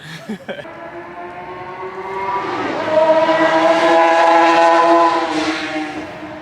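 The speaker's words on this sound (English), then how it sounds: "That engine sounded like trash." A rough-running car engine passes by on the road, its droning hum swelling louder as it nears and holding a harsh, strained tone before easing slightly.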